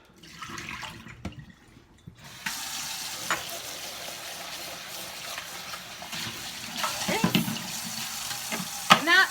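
Liquid pours and splashes out of a pickle jar steadily into a sink for several seconds, with a few clinks of glass along the way.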